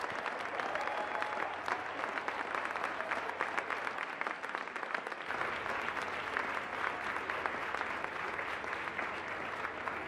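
Sustained audience applause fills a large conference hall at a performing arts gathering in New York, a steady dense patter of many hands clapping at moderate volume without a break.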